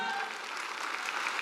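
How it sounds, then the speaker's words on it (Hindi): Loud, dense applause from a seated audience at a team leadership event, a continuous even wash of clapping with no pauses. "मैं चाहूंगा अपने लिए एक जोरदार तालियां बजाइएगा।"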